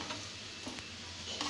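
Peanut chutney with chopped coriander stirred in a pan, a soft steady scraping over a faint continuous sizzle, quiet and close for a brief moment.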